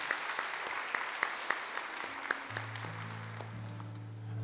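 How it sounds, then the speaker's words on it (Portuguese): A church congregation at Mass applauds the Gospel reading, a moderate, even patter of clapping with a few sharp individual claps standing out, then a sustained organ or keyboard note entering softly beneath it. "Pode aplaudir a palavra de Deus."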